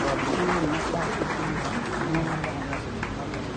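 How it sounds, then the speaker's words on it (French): An audience at a ceremony applauds the ministerial cabinet, a dense, continuous wash of clapping with voices and chatter mixed in throughout. "je demande à l'assistance d'applaudir l'ensemble du cabinet ministériel"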